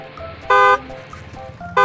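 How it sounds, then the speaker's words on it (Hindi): Car horn honks from behind on a road: two loud, short toots about a second apart, standing out over low road noise. "वो बिना रुके हॉर्न बजा रहा है, लगता है कोई बहुत जल्दी में है।"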